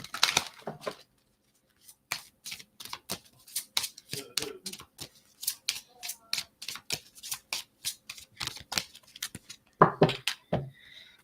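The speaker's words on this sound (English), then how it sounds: "me do another shuffle" A run of crisp, rhythmic snaps and riffles of a tarot deck being shuffled, close by, with brief pauses between bursts and a short quiet gap near the start.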